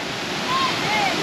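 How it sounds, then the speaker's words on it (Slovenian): A second waterfall in the Philippines pours muddy water swollen by heavy rain, making a steady, loud rushing roar that fills the short stretch without a break. "Tole bo še ta drugi slap."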